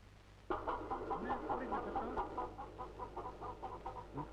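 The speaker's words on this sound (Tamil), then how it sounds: "கோழி." A chicken clucks in a quick run of short, fairly faint calls that repeat in an uneven rhythm over a low background hum, starting abruptly and carrying on to the end.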